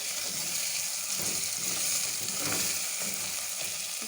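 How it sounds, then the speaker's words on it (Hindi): Cloves and black pepper fry in hot oil for tinda keema, giving a close, steady hissing sizzle that holds throughout with faint stirring scrapes; no one talks. "सबसे पहले हम इसमें ये लौंगे और काली मिर्ची डालेंगे। इसे हल्का सा हम फ्राई करेंगे।"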